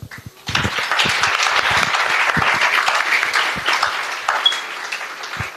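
An audience at a B.Tech orientation event applauds loudly, a dense, continuous burst of clapping that starts abruptly and holds steady for several seconds.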